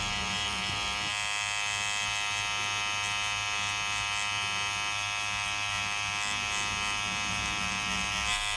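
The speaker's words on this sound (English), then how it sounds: "For larger areas, I can also use a Magnum needle to work faster." A tattoo machine fitted with a Magnum needle buzzes continuously at an even, high-pitched whine, close and steady for the whole stretch, with no speech.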